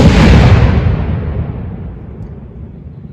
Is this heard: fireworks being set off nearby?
yes